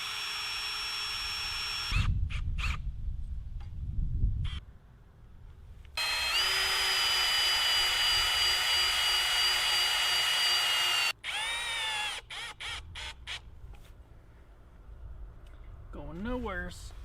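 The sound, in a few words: power drill driving self-tapping screws into a flagpole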